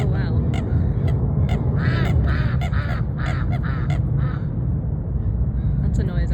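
Ducks in a peaceful pond area quack in a repeated series of nasal calls, some overlapping in quick bursts and others isolated, over a constant low rumble of wind or water background.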